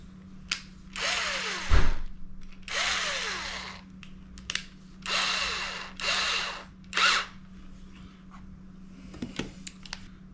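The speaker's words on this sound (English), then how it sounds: "So we'll put the 7/32 in the drill." A power drill with a 7/32 bit spins up in about five separate close bursts of one to two seconds, with a few shorter blips and a steady background hum, and almost no talking.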